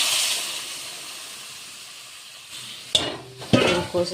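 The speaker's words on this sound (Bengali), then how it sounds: "আমার তরকারিটা দেখো কষা হয়ে গেছে, আমি জল ঢেলে দিলাম" Water poured into a pan of reduced vegetable curry for fish jhol, a bright hissing sizzle that fades, then sudden bursts of bubbling and splashing as the water hits the hot pan, close and loud.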